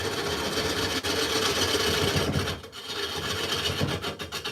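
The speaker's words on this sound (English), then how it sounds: "I think I'm going to need to sharpen up my gouge here." A woodturning gouge is sharpened, giving a steady abrasive rasping grind at close range that continues with a brief dip midway and no talking.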